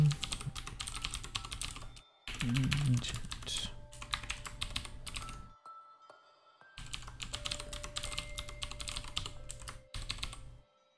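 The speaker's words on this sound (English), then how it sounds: "I'm glad you like my mechanical keyboard." Fast, steady clatter of keys on a mechanical computer keyboard, typed in bursts with a couple of brief pauses, close and clear with no talking.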